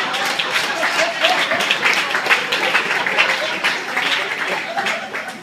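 Loud, dense applause from a dinner audience at an awards ceremony, sustained clapping from many people with some laughter mixed in, continuous from start to finish.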